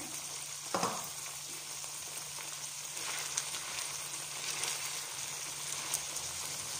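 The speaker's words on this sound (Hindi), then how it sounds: "ये प्याज और सुर्ख मिर्चें और धनिया है, ये मैं डाल रही हूँ, इसमें शामिल कर रही हूँ।" Onions, red chilies and coriander fry in a small saucepan, giving a steady close sizzle and crackle throughout, with a brief louder burst near the start.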